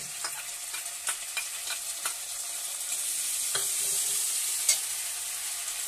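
Mustard and cumin paste frying with a bay leaf in a pan, sizzling softly while a utensil stirs and taps the pan in several scattered scrapes, with no speech.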